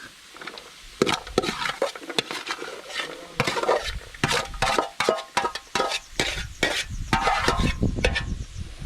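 Seasoning, carrot, sweet pepper, okra, onion and garlic stirred and frying in a pot, repeated scraping and knocking of a utensil against the pot over a steady sizzle, close and fairly loud, no voices.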